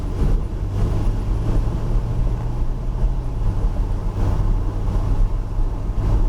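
Car accelerating on the racetrack at New Jersey Motorsports Park, a steady loud engine drone with a sustained low tone, continuous close in-cabin roar without speech.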